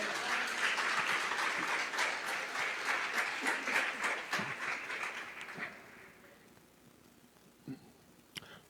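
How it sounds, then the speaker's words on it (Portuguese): Church congregation applauding at a Nazarene service, a dense steady wash of clapping for about five and a half seconds that then fades out, leaving a few scattered late claps in near silence. "Você pode aplaudir ao Senhor"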